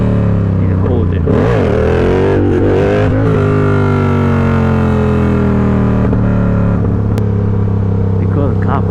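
Motorcycle engine held at steady throttle during wheelie practice, a loud continuous drone with rising and falling harmonic pitch, brief revving swells early on, close to the microphone throughout.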